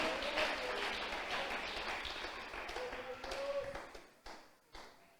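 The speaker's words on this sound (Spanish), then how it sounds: "Yo no sé cuánto lo pueden aplaudir en esta tarde" An evangelical church congregation breaks into dense, sustained clapping that gradually thins out and trails off into scattered claps, with a voice speaking over it.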